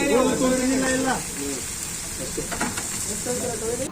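Butter dosa sizzling on a busy hotel griddle, a steady hissing fry running throughout beneath someone talking nearby, with faint clatter of the cooking in the background.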